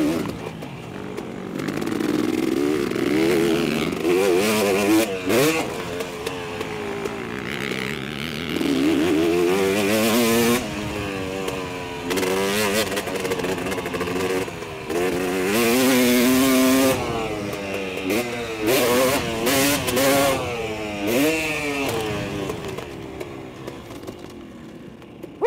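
Motocross motorcycles ride and rev on the Southfork MX dirt track, loud, close two-stroke engine howls rising and falling in pitch as bikes accelerate, shift and pass, continuous throughout.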